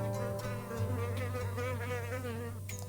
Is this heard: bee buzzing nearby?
yes